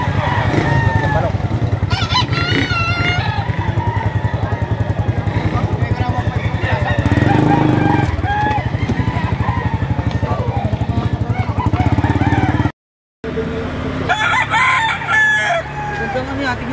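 A rooster, a months-old bird up for sale, crows loudly and repeatedly and clucks close by, with people talking and a motorcycle engine audible throughout.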